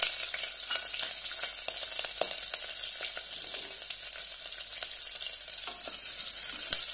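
Onion, mustard seeds and cumin sauté in hot oil for rasam rice, giving a continuous, loud crackling sizzle with scattered pops throughout and no talking.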